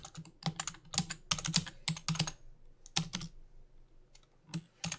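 Rapid keystrokes on a computer keyboard, with Shift and Control among the keys pressed, form a dense run of close, sharp clicks and clacks, then slow to a few scattered taps, with no talking.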